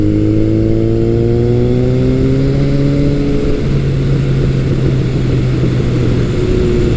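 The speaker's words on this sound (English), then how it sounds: "the glorious sound from the Delcovic exhaust, just, it makes riding this bike so sweet" A Kawasaki motorcycle engine, a KZ1000 or ZRX1200R, breathes through a Delkevic exhaust. It drones steadily up close with a rising pitch, then drops back to a steady tone at about three and a half seconds.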